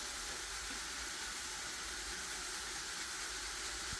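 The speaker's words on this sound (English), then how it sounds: "So when you add your ginger and your garlic, you fry them for a little bit" Ginger and garlic frying in a pan while pasta Bolognese is made in bulk, giving a steady, even sizzling hiss that runs unbroken and fairly faint, with no talk.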